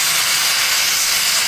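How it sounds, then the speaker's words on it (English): Steady, loud hiss of steam escaping from a steam locomotive, continuous and broadband with no break or talk over it. "everything on a locomotive works by steam"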